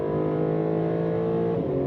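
Aston Martin DB12 S engine, a 2026 high-performance GT, pulls hard under acceleration with a steady loud drone, then its pitch drops as the gearbox upshifts near the end; no talking.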